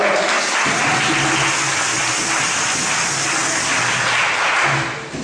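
A church congregation at a worship service applauds, a dense continuous clapping close and loud that fades slightly at the end.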